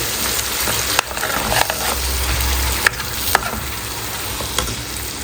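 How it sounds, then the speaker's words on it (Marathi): Spinach and yogurt puree with spices sautéing in a pan for a chole palak dish, a steady close sizzle with a few scraping stirs of a spoon, no talking. "पालक आणि दही जे ग्राइंड करून घेतलं होतं ते आपण ॲड करणार आहोत आणि हे पण आपण मिक्स करून घेऊ चांगलं दोन तीन मिनटं चांगलं परतून घेऊ"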